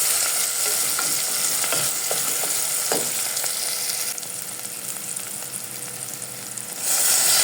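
Onion sizzling and being stirred in a hot pan, a continuous crackling fry with scraping stir strokes, close and moderately loud, no voices present.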